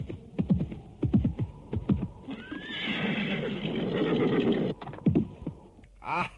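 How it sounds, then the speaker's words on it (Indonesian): Horse ridden at a gallop, with rhythmic hoofbeats drawing closer, a loud whinny in the middle, then more hoofbeats and a final neigh, close and clear. "dari arah Bukit Kurawan muncul kuda yang lain. Kuda itu terus dipacu makin dekat."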